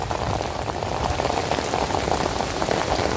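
Steady, dense rainfall pattering on a surface, loud and continuous throughout with no voices.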